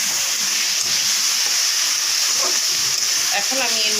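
Dried fish and ridge gourd sizzling steadily in a hot pan, a continuous bright frying hiss with scraping stirring sounds and a lid or utensil clatter near the end, close and loud.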